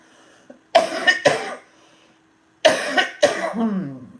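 A woman coughs in two separate bursts, each a pair of sharp, close coughs with quiet between them.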